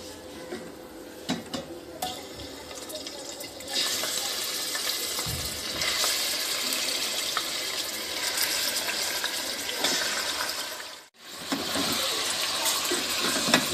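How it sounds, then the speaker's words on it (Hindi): About three quarters of a pound of mutton pieces sizzle and fry in hot oil for aloo gosht, a steady broadband hiss that grows louder after a few seconds and dips briefly near the end. "अब हम इस ऑयल में ये गोश्त डाल देंगे सारा।"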